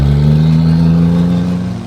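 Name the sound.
1000+ horsepower hoodstacked Cummins diesel truck launching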